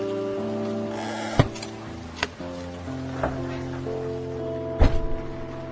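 A rain sound effect from a radio horror drama hisses steadily under tonal music, broken by a few sharp, sudden hits.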